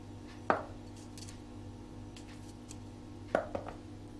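A knife chops garlic on a cutting board with two distinct knocks several seconds apart, faint and close, over a low kitchen hum.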